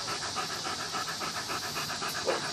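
A dog pants steadily in quick rhythmic breaths, close and moderately loud, with no talk over it.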